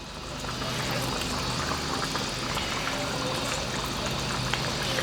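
Meat cooking water pours steadily into a pan of Kerala-style beef curry, a continuous close splashing and gurgling pour with no talk over it.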